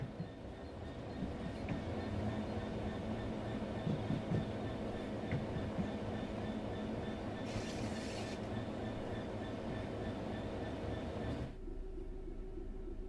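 A simulated train coasts on level track in Train Sim World 6, a steady rumbling drone with faint rhythmic rail clatter and a brief hiss partway through before the noise drops slightly near the end.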